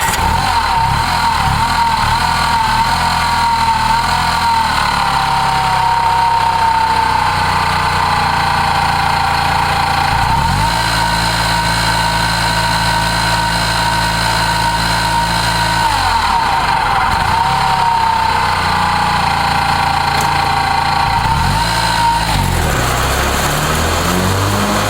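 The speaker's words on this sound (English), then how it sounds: "And it starts right up and runs like a charm." Honda 4514H riding mower engine running steadily at close range, a continuous loud drone with slight shifts in pitch and a brief change near the end, with no talking.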